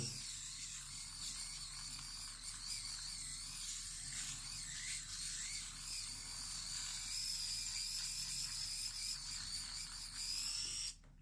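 A compact Flawlbss men's electric shaver runs continuously with a steady high-pitched buzzing whir, close and fairly loud, cutting off abruptly near the end.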